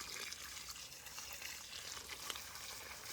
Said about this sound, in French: Donc après, on arrose